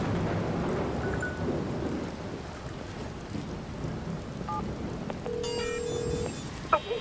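Rain and thunder in the video game Watch Dogs: a continuous wash of falling rain with a low rumbling thunder bed, joined midway by an electronic phone ring and a brief sharp click near the end.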